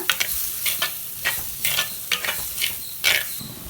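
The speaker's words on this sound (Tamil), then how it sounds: "இப்போ இது ரெண்டையும் சேர்த்து நல்லா வதக்கிக்கலாம்" Onion, tomato and chili powder masala sautéing for a Tamil oil brinjal curry, with steady sizzling and repeated spoon scrapes and stirs against the pan, close and clear, no talking.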